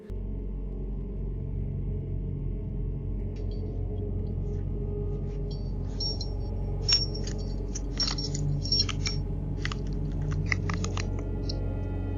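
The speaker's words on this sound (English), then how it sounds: "an unfamiliar woman trying to break into his house using different keys and searching for a hidden one" A woman tries different keys in a house door lock, the small metallic jingles and clicks of the keys coming in scattered bursts over a low, steady hum.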